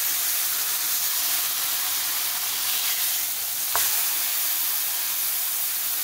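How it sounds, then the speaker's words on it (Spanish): Enchiladas for Mexican enchiladas in red sauce sizzle steadily in hot oil in a pan, a continuous close frying hiss throughout, with one brief sharper crackle partway through. "de este lado las vas a poner y las vas a freír"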